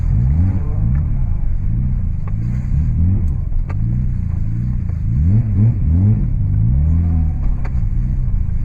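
A Subaru Legacy with a swapped H6 engine is driven hard. A loud, continuous engine drone rises and falls through repeated revs, heard close from inside the car.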